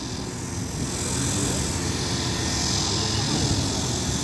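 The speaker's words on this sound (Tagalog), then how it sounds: "Tapos may taong nagka-cutting grass." A grass cutter trims grass outdoors near a factory, heard as a steady, constant motor whine with a broad rushing hiss, moderately distant and unbroken throughout.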